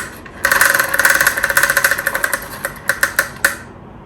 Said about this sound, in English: let's spin the wheel for you